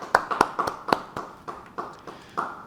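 A church congregation at a Bible study claps in a loose, uneven rhythm, distinct separate hand claps sounding one after another at moderate volume, slightly distant and without speech.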